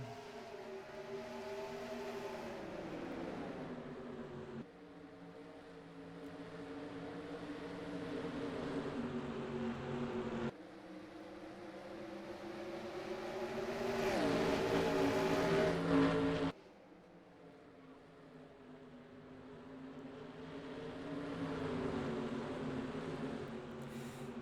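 S7 Cup Series race cars in a racing video game at ISM Raceway, a desert track, giving a continuous droning engine whine that rises and falls in pitch across several sustained stretches, with abrupt shifts between them and no talk.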